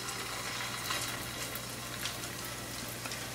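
A chicken chapli kebab fries in oil in a pan, giving a steady, dense sizzle with faint crackles throughout, close and even, without any talk.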